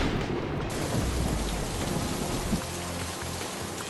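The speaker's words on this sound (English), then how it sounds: "rain starts to fall down" Heavy rain pours steadily in the video game IGI, a dense constant hiss of drops on surfaces with a low rumble of thunder underneath, loud and unbroken with no voices.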